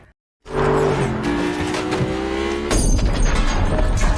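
A driverless car in a film scene rolls off with its engine humming and tires whining under tension, then a sudden louder rush of impact noise and crunching takes over, loud and close throughout.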